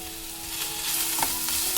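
Chopped tomato and vegetables fry in a pan while being stirred, giving a soft, steady sizzle with faint scraping touches, no voices.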